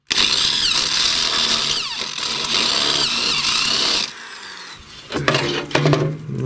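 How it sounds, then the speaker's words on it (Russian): A step drill bit whines loudly and steadily for about four seconds boring a valve-stem hole, then drops off before a few rougher, grinding bursts follow. "С помощью ступенчатого сверла просверлим отверстие под сосок камеры."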